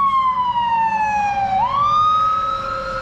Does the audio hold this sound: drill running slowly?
no